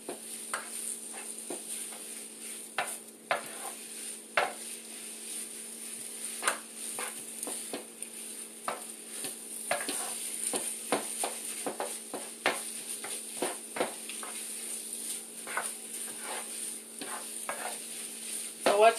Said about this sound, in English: if you like kind of chunks in your sausage, you don't have to stir it as much